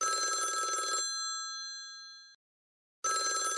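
A telephone bell rings, a loud bright electronic trill that stops and hangs as a fading tone before a short silence, then the ringing starts again.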